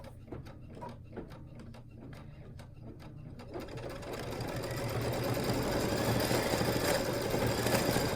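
A Luminaire sewing machine stitches a quilting border with an auto split quilting border kit, starting with a few separate clicks and then building into a steady, close, continuous mechanical whir.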